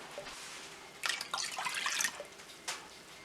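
Water pours into a container for vegan cornmeal pancake batter with applesauce, a few short faint splashing bursts followed by a final brief pour, quiet and close.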